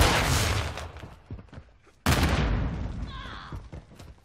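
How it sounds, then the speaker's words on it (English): Video game gunfire in a military shooter match: a loud burst of shots and booms at the start, then a second sharp blast that rings out and trails off, with scattered thuds between. "They're shooting at me."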